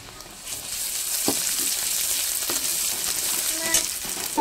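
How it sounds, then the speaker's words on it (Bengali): A tablespoon of ginger and garlic paste sizzles in hot oil with chopped onions, a steady close hiss punctuated by a few soft stirring knocks, with no talking over it. "এবার দিয়ে দেবো আমি 1 টেবিল চামচ মতন আদা এবং রসুন বাটা দুটোই পেস্ট করে রেখে দিয়েছি"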